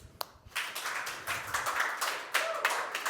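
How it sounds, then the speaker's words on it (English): A conference audience applauds a speaker being introduced, a steady patter of many hands clapping at moderate volume for a few seconds. "So please, let's put your hands together for David."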